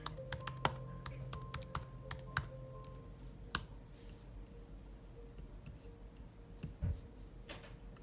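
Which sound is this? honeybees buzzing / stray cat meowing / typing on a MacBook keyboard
typing on a MacBook keyboard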